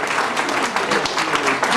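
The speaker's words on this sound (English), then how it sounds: "So a little round of applause for my dad's new lady." Party guests at an 80th birthday celebration applaud, a loud, close burst of many hands clapping together for a couple of seconds.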